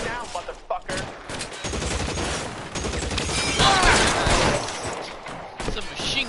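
Bursts of automatic machine gun fire in the video game L.A. Noire, dense and continuous, close and loud, with in-game voices talking over the shooting.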